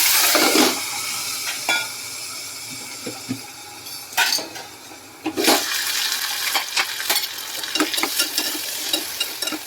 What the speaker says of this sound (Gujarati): તેલ ગરમ થઈ ગયું છે તો આપણે પહેલાં રીંગણ બટેકાનું શાક વઘારી લઈશું